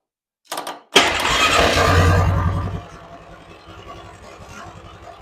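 A Polaris Magnum 425 four-wheeler, powered by a jump pack, cranks with a short burst, then catches and roars up loudly for about two seconds before settling into a steady, lower idle, close by.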